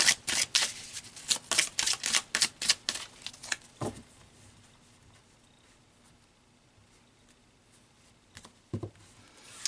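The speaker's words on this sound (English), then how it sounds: "let's pull some past life cards and see what comes out there." Tarot cards shuffled and flipped during a past life reading, a quick run of loud riffling bursts for about four seconds, then a quiet stretch and a final soft card flick near the end.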